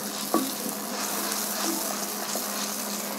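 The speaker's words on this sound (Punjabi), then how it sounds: "ਟਮਾਟਰ ਨੂੰ ਆਪਾਂ ਭੁੰਨਾਂਗੇ 2-3 ਮਿੰਟ ਤੱਕ" Tomato, ginger, garlic and green chilli paste frying steadily in a pan for a besan gatte curry, a continuous low sizzle with a couple of faint stirring clinks, alone without talk.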